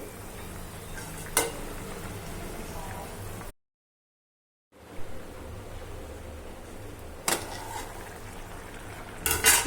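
A pot of moong dal curry simmering on the stove, a soft low bubbling with occasional light clinks of a utensil against the pot and a brief moment of total silence partway through.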